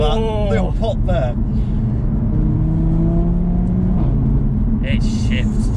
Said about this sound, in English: Proper exhaust noise.